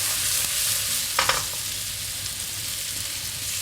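Black pudding frying in butter in a pan, a dense continuous sizzle held at an even level throughout, with a couple of brief clinks or stirs near the start, close up and with no talk.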